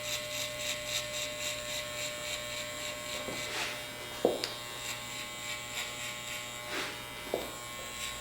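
Styliner 2 electric hair clippers buzz steadily at close range while cutting hair, with soft pulsing rhythm and occasional brief clicks and rustles as the blades pass through.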